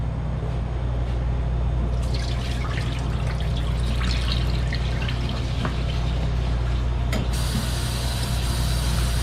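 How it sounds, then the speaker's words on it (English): Cloudy potato soaking water for homemade french fries is poured out into a kitchen sink, a steady splashing trickle and drip over a low constant hum, growing brighter partway through as the stream hits the basin. "Now we're just going to come to the sink and dump it out."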